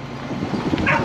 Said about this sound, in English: Here comes the other dogs.